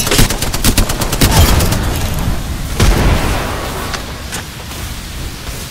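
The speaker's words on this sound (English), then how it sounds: "Grenade, watch out!" In Apex Legends, a grenade blast and rapid gunfire fill the scene with loud, dense bursts of shots and booms that fade into a rumbling tail.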